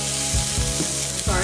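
Onions sizzling and frying in olive oil in a pan, a steady close hiss with a few stirring bumps, for salmon fishcake patties.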